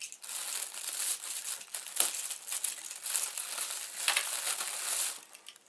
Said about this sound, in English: Cut that corner a bit more because it's not wanting to